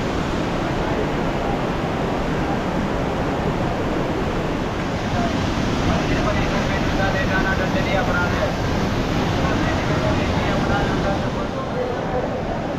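The Yamuna river rushes at Yamunotri in the Himalayas, filling the scene with a loud, unbroken roar of moving water.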